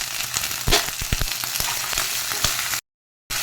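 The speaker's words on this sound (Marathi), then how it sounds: "कांदा लसूण भाजत आलेला आहे त्याच्यामध्ये आता डाळ घालायची तुरीची भिजत घातलेली" Onion and garlic fry in a pan with soaked toor dal, giving a loud continuous sizzle broken by a few sharp stirring clicks, then a brief gap of silence near the end.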